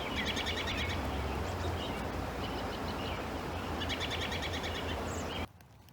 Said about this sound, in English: How many different bird sounds can you hear?